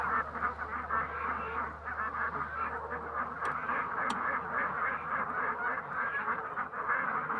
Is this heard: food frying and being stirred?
no